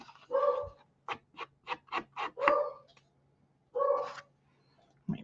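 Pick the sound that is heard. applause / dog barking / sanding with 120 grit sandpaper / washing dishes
dog barking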